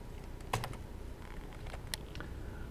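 Computer keyboard keys pressed during After Effects work, including a Ctrl+K shortcut, two crisp clicks standing out over a steady low background hum, close and quiet, no talking.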